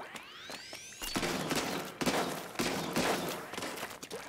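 Charger weapon firing in Splatoon 3, a rising charge whine followed by several sharp blasts and splattering bursts, loud and close, repeating at irregular intervals.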